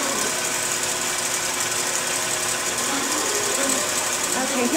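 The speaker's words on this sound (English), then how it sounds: "here it is stitching that last row" A computerized Intelliquilter quilting machine stitches a pantograph row, giving a steady, continuous mechanical whir with a high buzzing hum that runs throughout at an even level, with faint background sounds underneath.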